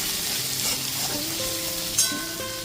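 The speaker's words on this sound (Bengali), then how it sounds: "মাছের মাথাটা দিয়ে মশলার সাথে খুব ভালো মতো এখানে কষিয়ে নিয়েছি।" Fish head being stir-fried with masala in a pan, a dense continuous sizzle with soft stirring movement and one brief scrape near the end.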